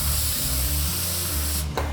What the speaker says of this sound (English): This atmosphere aerosol is really great when you just need a quick hit.